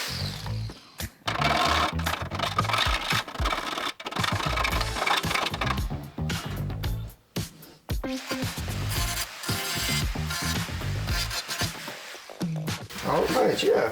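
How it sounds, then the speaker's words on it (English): An angle grinder grinds welds off a car body during a custom restoration, giving a loud, continuous, harsh whine that runs almost unbroken with a few brief drops in pitch and pauses, and a voice talks over it. "let's just grind away the little weldings right here and right there"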